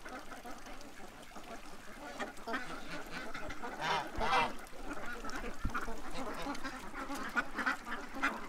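Ducks and geese calling on a hunt, a scattered run of quacks and honks at moderate distance, peaking in the middle, over steady outdoor background noise.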